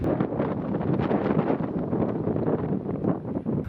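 Gusty wind rumbles and buffets the microphone continuously, a rough, fluttering roar with no other clear sounds.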